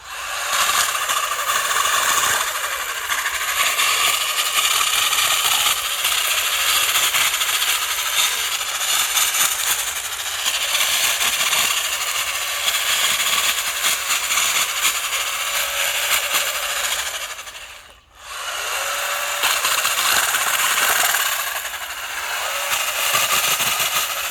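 A Ryobi 40V electric pole saw runs steadily with a buzzing whine as it cuts tree branches, briefly stopping and then resuming, nearby and loud.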